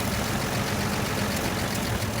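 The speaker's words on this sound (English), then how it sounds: "I just think the truck should be idling a little higher." An old truck with a new generator idles steadily at close range, a low continuous engine rumble with no other sounds over it.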